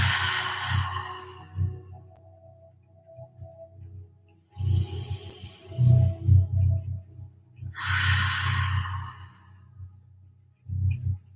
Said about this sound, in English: Take some cleansing, deep, full inhales and exhales.